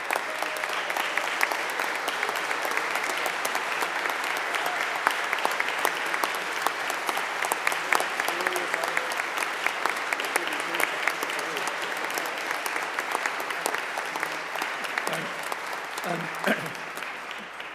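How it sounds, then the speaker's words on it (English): Sustained audience applause at an aviation hall of fame induction ceremony, a large crowd clapping continuously and evenly for a long stretch, tapering slightly near the end. "please stand and please give them a round of applause"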